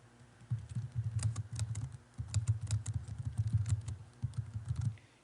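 Typing on a computer keyboard while entering an action in clinical records software, a steady run of quick close key clicks in bursts with a brief pause partway, no talk.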